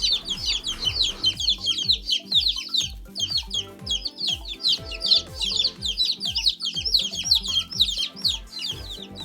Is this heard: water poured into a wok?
no